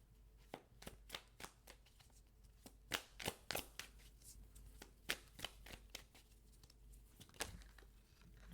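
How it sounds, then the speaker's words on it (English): Tarot cards shuffled close by, giving a long run of sharp, irregular papery snaps and riffles, some louder than others, with no voices over them. "man, it's taking a while to shuffle."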